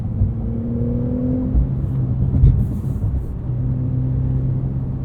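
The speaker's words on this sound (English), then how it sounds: "this 3-liter flat 6, it's doing its best impression of a naturally aspirated engine" Porsche 911 Carrera with a 3-liter flat-six and PDK gearbox accelerating, heard from inside as a steady low engine drone with a rising tone that drops briefly at a gear change before climbing again.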